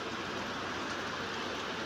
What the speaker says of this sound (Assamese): পুৰা বৰষুণ দি আছে।